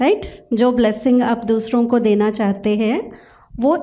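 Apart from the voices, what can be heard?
No everyday noises stand out.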